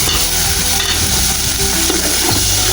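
Spice masala is stirred and fried with dried fish and greens from a rooftop garden, a loud, continuous close sizzle with scraping stirring sounds running throughout and no talk.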